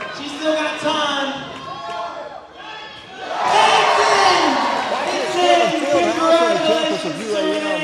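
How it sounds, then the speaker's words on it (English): Basketball fans cheering in an arena during a women's college game, a loud crowd roar with whoops that swells sharply midway and stays full, with an announcer's voice over it. "Come on, Blossoms fans, cheer her on as she makes this free throw"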